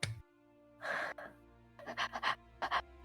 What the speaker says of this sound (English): Heavy breathing.